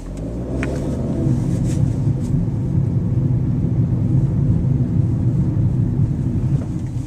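2012 Kia Rio 5-door pulling a tight turn from a standstill, a low steady engine rumble with mild revving heard close from inside the car, with no talking.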